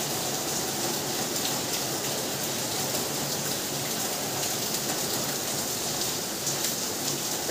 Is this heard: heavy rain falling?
yes